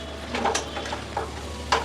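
Food sizzling in a hot kadai with a few scraping stirs, fairly close and brief.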